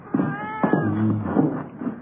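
A house cat meows in a hallway inside a home, with several drawn-out, wavering calls rising and falling over about two seconds, fairly close and clear, with no talking over them.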